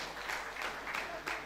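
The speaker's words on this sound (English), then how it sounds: "Please, a round of applause for him once again" Audience applause at a university convocation event, a short burst of dense clapping from a seated crowd, fairly even and moderately loud for its brief length.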